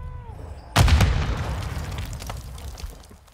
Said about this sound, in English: Throwing grenade! Throwing a stun grenade!